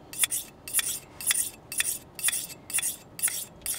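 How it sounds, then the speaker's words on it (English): A knife blade is stroked across a small diamond sharpening card, giving about eight quick, evenly spaced metallic rasping scrapes, close and clear with no talk. "It's a diamond sharpening card, is what it's called."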